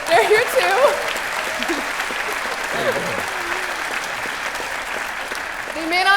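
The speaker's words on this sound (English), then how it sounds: "I think you should also greet our guests, Lawrence and Richard" Audience applause greeting guests Richard Dawkins and Lawrence Krauss at a live event, steady loud clapping from a large crowd with voices speaking over it at the start and end.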